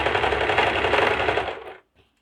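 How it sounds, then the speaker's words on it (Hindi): A sewing machine stitches a seam on a princess-cut blouse, a loud rapid mechanical whirring run that stops abruptly near the end, followed by a faint click, with no talking. "पहले सीधी तरफ से इस पर एक सिलाई डाल लें"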